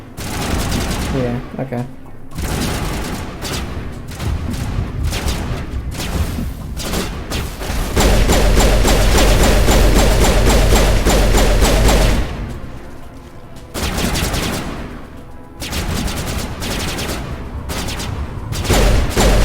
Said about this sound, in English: I guess I can shoot this